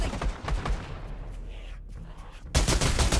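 Gunfire in the VR shooter Pavlov's zombies mode, with dense bursts of shots at the start and a loud sustained volley at the end, separated by a duller stretch of game noise.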